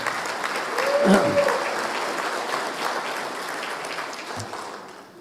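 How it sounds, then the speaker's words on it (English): A crowd applauds a residential school committee seated at a guest table during an Île-à-la-Crosse survivors' apology event, a sustained indoor round of clapping with a brief whistle-like tone near the start. "So let's give them a nice round of applause."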